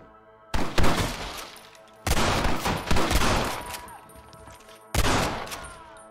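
Gunfire crackles through a Wild West shootout in Red Dead Redemption: three loud, dense volleys of rapid overlapping shots, each fading out before the next burst erupts.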